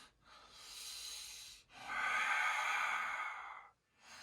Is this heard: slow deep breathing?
yes